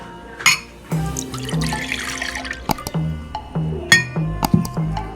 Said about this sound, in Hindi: सबसे पहले दूध डालेंगे बोल में